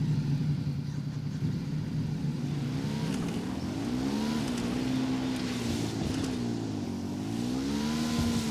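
A motorcycle in the video game Ghost Recon Wildlands revs and rides, its engine note rising and falling in sweeping waves over a steady drone, loud and close throughout.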